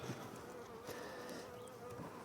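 Steady, dense buzzing of many honey bees swarming close by around a hive, a continuous hum with no pauses.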